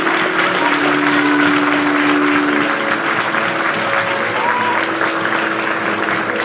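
Steady, loud applause from a church congregation fills the whole stretch, dense and continuous, with a faint sustained tone running beneath the clapping.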